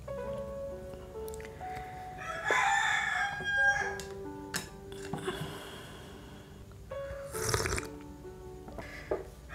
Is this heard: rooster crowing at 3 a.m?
yes